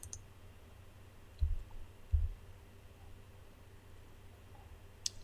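Two quiet, sharp mouse clicks sound a little under a second apart while a new Lightworks project is created, close and dry over a faint hum, with a tiny tick near the end.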